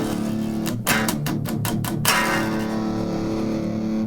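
An electric guitar runs through a Friedman-style amp plugin setting, giving a distorted tone: a quick series of choppy muted chord stabs followed by a sustained ringing chord.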